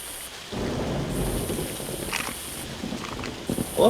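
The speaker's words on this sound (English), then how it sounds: "I love the rain and the thunder for the sound effects here" Steady rain hisses across an open landscape in the Jurassic Park Hunter Legacy video game, with low rolling thunder rumbling underneath and a few soft footstep-like taps, without any talk.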